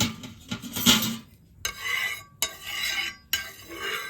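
A dosa griddle being handled on a stove to toast bread after a spoon of oil goes in, giving a few bursts of metallic clatter and scraping separated by short pauses, close and fairly loud, with no talking.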